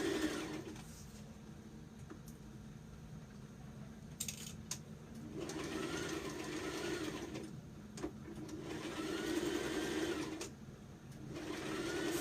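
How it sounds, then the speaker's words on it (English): A sewing machine stitches a dress in quiet, faint bursts of rapid mechanical whirring, stopping and starting several times with brief pauses between runs. "Continue sewing."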